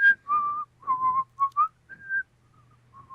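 A person whistles a film theme, a clear solo melody of sustained notes with short gaps, close and alone.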